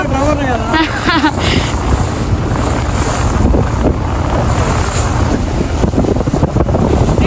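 Motorboat riding on the sea, a continuous loud roar of engine, wind buffeting the microphone and rushing water, with people talking over it.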